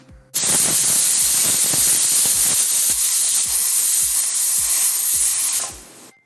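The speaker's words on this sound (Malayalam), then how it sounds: "ഇനി ഈ നോസിൽ വഴി ആവി വന്നതിന് ശേഷം മാത്രം വെയിറ്റ് ഇട്ട് കൊടുക്കുക." Steam vents from the nozzle of a pressure cooker as a loud, continuous close hiss that starts abruptly, holds steady for about six seconds with faint rhythmic pulses beneath, then cuts off.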